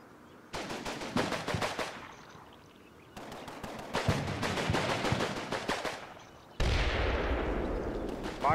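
Artillery barrages in the video game Combat Mission: three loud stretches of rapid, overlapping blasts and crackling impacts, each rolling on for a second or two before fading, with the last rising into a sustained roar.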